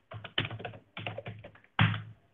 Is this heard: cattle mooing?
no